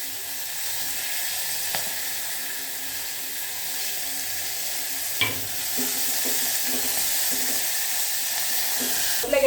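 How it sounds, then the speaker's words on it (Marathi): Mixed vegetables including cauliflower, with crushed ginger and garlic, sizzle and fry steadily in a pan for a mixed veg pulao, the frying hiss constant and close with a few scraping stirs and clinks, no talking. "आता त्याच्यामध्ये आलं आणि लसूण कुटून घेतलेले जे आहे ते पण टाकून घेते मी."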